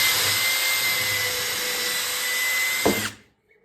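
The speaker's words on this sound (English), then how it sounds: "So we're gonna drill 2 pilot holes," A power drill whines steadily and close up while boring pilot holes into a 2x4 board, then spins down with a brief knock and stops.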